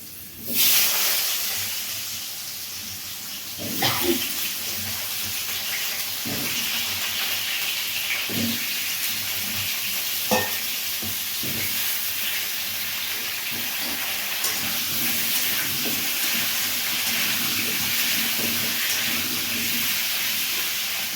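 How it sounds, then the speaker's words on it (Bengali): Potatoes brown in hot oil with a little turmeric for Bengali niramish aloo dum, giving a steady, bright sizzling hiss with occasional soft pops and clinks throughout. "তেলটা গরম হচ্ছে আলুগুলো প্রথমে বাদামি করে ভেজে নেওয়া হবে"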